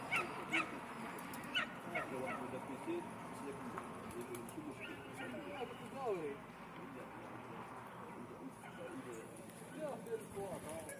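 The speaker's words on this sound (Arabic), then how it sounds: "ها هو الحمام." Pigeons coo and flutter in an echoing cave, with people talking over the soft, continuous cooing.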